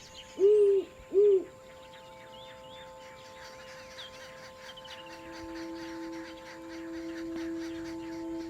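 A great horned owl gives two deep, distinct hoots close by, followed by a quieter stretch with faint background birdsong and a low steady hum.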